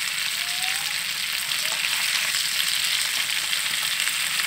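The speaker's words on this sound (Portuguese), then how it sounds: "fritando uma limpinha aqui na manteiga" Boiled cassava fries in butter in a pan, giving a dense, even sizzle that crackles steadily and close throughout, with no stirring breaks.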